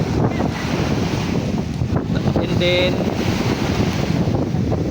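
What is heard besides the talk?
strong wind at the beach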